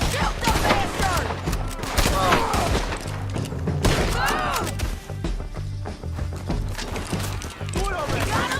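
Heavy, rapid gunfire from Red Dead Redemption 2 rattles almost nonstop in dense volleys, with shouting voices mixed in among the shots during a firefight near a bridge.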